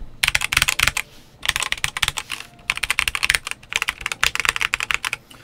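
Fast clacky typing on a Redragon K596 Vishnu TKL mechanical keyboard, close and crisp, in rapid bursts of keystrokes with brief pauses between runs.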